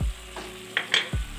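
Spices being stirred into chicken macaroni in a pan, with a short soft sizzle and a few quick scraping strokes of the spoon, close and brief.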